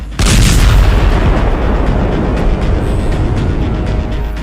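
An Israeli missile strikes in Lebanon in daylight, a sudden loud boom at the start followed by a sustained heavy, rumbling roar that stays loud to the end.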